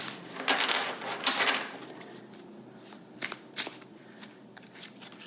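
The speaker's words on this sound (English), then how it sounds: "This month I will be pulling cards from both decks in the mermaid-type project." Two tarot decks being shuffled, with cards pulled out one after another: bursts of riffling and soft slaps up close, followed by a few sharper single card snaps, in a quiet room.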